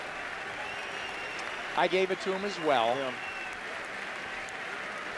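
Ringside crowd at a boxing heavyweight bout in Switzerland applauding steadily as a broad, even wash of clapping, with a commentator's voice talking briefly over it midway.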